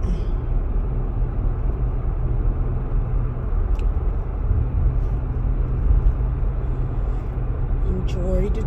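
A car drives along a road in Colorado, its steady low rumble of engine and tyre noise continuous and fairly loud throughout, with a few faint higher ticks near the end.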